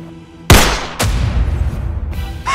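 Gunshots in a dramatic evangelical series scene: two loud, sharp, close blasts about half a second apart, with a third burst near the end, each followed by a ringing decay.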